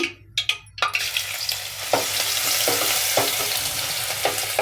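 Ginger garlic paste sizzles and fries in hot oil for a cabbage-turnip and pea kurma, with a steady bright crackle and a few clanks of stirring near the start, close and alone.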